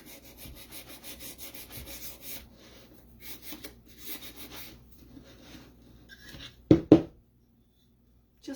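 Sandpaper rubs over a painted wood heart cut-out to distress its edges, soft repeated scrubbing strokes up close, followed by two sharp knocks near the end.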